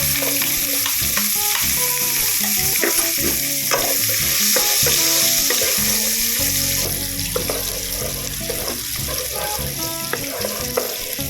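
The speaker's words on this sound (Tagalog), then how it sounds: "May oil na yan, and magsasaute na tayo ng garlic and onion" Garlic hitting hot oil with a little butter in a pan, a steady loud sizzle with scraping and clinks of a spoon stirring throughout, the frying hiss growing denser partway through.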